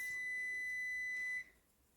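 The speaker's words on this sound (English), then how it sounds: "There's that damn timer again." A kitchen timer sounds one sustained, shrill electronic beep for about a second and a half, then cuts off into near silence.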